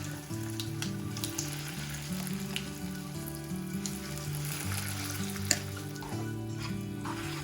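Steady, loud sizzling of a hot tempering as chutney is stirred in with the stove off, with occasional stirring scrapes, continuous throughout with no voices.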